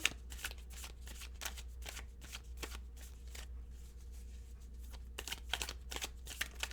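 Tarot cards are shuffled close by in a steady run of crisp, riffling card slaps and flicks, with a low constant hum underneath and no talking.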